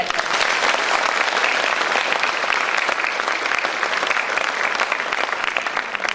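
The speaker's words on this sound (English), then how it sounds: "Let us all acknowledge them with a big round of applause." A large audience gives the performers of Bagong Sibol a big round of applause, a dense, even roar of clapping that holds loud and steady throughout.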